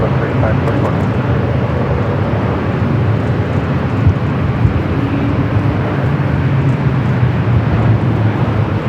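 A Southwest Airlines airliner taking off from runway 24 left at LAX: a broad, continuous jet roar that holds steady throughout, with faint radio voices underneath.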